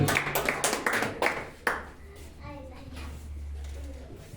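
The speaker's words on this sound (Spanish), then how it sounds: "Vamos a dar un fuerte aplauso, ¿no?" Short applause from a church congregation during an evangelical Spanish-language sermon, a burst of clapping in the first two seconds that quickly fades into a quiet room hum.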